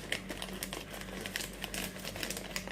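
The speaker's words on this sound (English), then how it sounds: "We don't want you to cut the whole bag off" Crinkling plastic bag being handled and snipped open with scissors while making banana and cauliflower slime, a busy stream of close crackles and sharp rustles, fairly quiet, with no one speaking.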